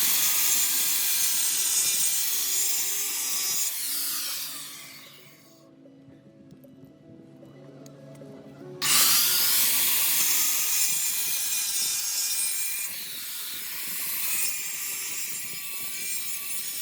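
A power saw, likely a grinder, cuts wood for a patio step repair with a loud continuous whine, drops away for a few seconds, then restarts and runs steadily to the end.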